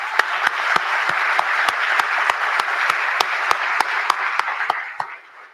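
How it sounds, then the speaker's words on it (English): Steady audience applause at the grand opening of the Walter B. Jacobs new facility in Caddo Parish, a dense wash of many hands clapping with a few sharper claps standing out, sustained for several seconds before fading out at the end. "let's give the Walter B. Jacobs family again another round of applause"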